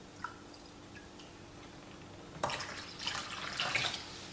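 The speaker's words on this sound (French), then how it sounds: "Donc là il faut ajouter 1 litre d'eau froide." Cold water pours into homemade lemonade, a soft splashing trickle that begins suddenly after a few faint drips and continues quietly.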